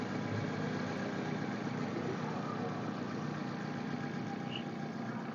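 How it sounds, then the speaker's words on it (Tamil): A petrol Hyundai i10 car engine idles quietly and evenly, a soft steady hum with no changes in pace. "பெட்ரோல் வண்டியோட இன்ஜின் சவுண்டு உங்களுக்கு நல்லா தெரியும்"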